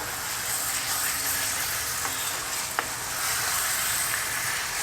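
Spicy masala chicken sausages fry in a pan over high heat, giving a steady, close sizzle and hiss with a couple of brief clinks of a utensil stirring.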